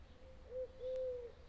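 A squirrel chirps from up in a tree outdoors, a faint, steady, tonal call in two short bursts against quiet background hum.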